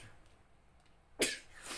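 A single quick sneeze bursts out after a near-silent pause, close and sharp, followed by a softer breathy tail.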